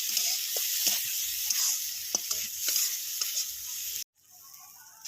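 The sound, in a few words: tomato and grated ginger frying in a pan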